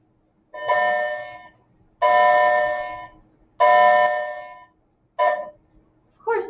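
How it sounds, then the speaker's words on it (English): A doorbell rings in a quiet room, four loud sustained tones spaced about 1.5 seconds apart, each fading slowly, followed by a shorter cut-off ring and one more brief chime at the end. "Of course the bell would ring while I was recording."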